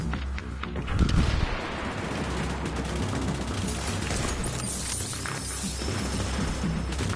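Gunfire aimed at a sniper in The Division's Dark Zone crackles densely and loudly throughout, as rapid overlapping shots blur into a continuous barrage with a heavier burst early on.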